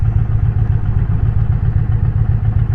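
An Indian Challenger motorcycle engine rumbles steadily and deeply at close range with a throbbing low beat, no voices, continuous for a few seconds.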